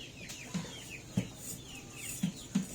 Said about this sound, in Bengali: মুরগি কিন্তু ভালো একটা জায়গা হয়েছে তাই না